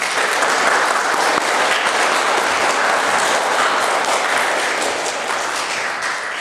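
A school assembly audience applauds students during an Education Week event, a loud, dense and sustained round of clapping filling the hall at an even level from start to finish with no talk over it.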